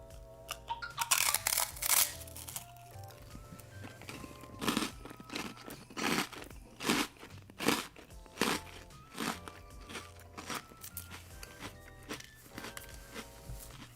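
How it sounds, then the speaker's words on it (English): Repeated crisp crunches from biting and chewing a bubbly puffed senbei rice cracker flavored with soy sauce, about a dozen sharp bursts spread across the stretch, close and fairly loud, with no talking. "The bubbly kind of senbei, not the flat kind. Looks very crunchy."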